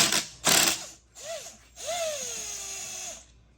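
Impact driver with a spanner socket removing clutch parts on a Honda XR70 dirt bike, heard as short close bursts of rattling hammering, with rising and falling whines as the motor spins up and winds down, no talk.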